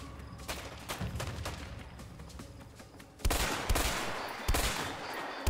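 Gunfire in the video game A Way Out, a burst of shots then a louder volley with sharp cracks, fairly close, and no talking.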